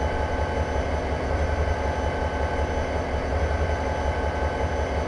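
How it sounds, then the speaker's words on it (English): A freight train slowing to a stop on Cajon Pass in Train Simulator gives a steady, continuous low rumble and rolling rail noise, with no talk. "It's going to take a while to stop the train altogether."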